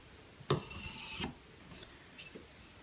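A Benchmade Bushcrafter 162 knife is drawn across a finer Hapstone sharpening stone, making two distinct close scraping strokes followed by a few fainter, lighter rasps.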